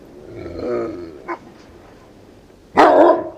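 Small dogs bark in a few scattered outbursts: a yappy cluster early, a short single yip, then a loud sharp bark at the end, close and clear with quiet gaps between.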